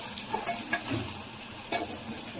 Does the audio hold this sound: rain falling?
no